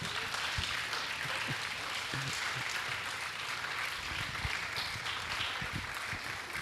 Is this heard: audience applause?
yes